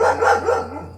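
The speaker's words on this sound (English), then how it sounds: "So that's why she's barking." A single dog barks loudly and close, one short burst with no other sound around it.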